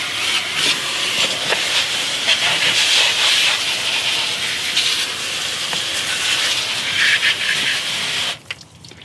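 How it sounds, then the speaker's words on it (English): A hose or pressure washer rinses cleaner off a car's wheel arches with a loud, continuous broadband hiss of spraying water that holds steady for about eight seconds, then cuts off abruptly. "just get your hose or pressure washer, whichever one you choose, and just give everything a quick rinse"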